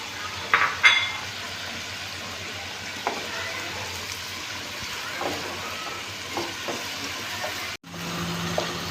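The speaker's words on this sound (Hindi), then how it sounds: "मसाला भुन गया था" Spices fry for mutton karahi in a steady, close sizzle with a few stirring scrapes and clinks against the pot, then a brief drop near the end.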